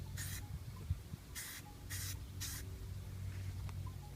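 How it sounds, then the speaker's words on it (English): Short hissing bursts of a spray paint can coating goose silhouette decoys gray, four quick sprays in a row with a fainter fifth, close to the microphone against quiet background. "After we're finished spray painting everything gray"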